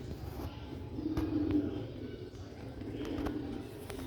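A black-faced Sialkoti pigeon coos in low, soft, repeated murmurs, close by, against a faint background hum.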